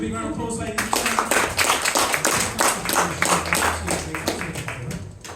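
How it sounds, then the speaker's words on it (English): Steady clapping from a hypnosis show audience at Colchester Fringe fills several seconds in a busy, rhythmic patter, with someone talking over the applause. "Give them a big round of applause, ladies and gentlemen."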